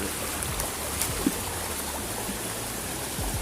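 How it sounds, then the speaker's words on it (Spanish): A small stream flows at Los Pilones between Santiago and Puerto Plata, a steady close rush and babble of water running continuously with no talk. "He llegado a un punto del arroyo."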